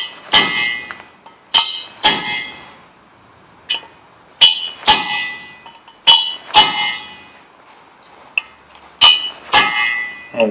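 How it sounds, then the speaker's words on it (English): Sharp metallic hammer strikes ring out one after another at an uneven pace, each blow leaving a bright clanging ring that fades quickly, as a bearing outer race is driven home on a Ferguson TED20 tractor crown gear. "You can hear how the sound changes"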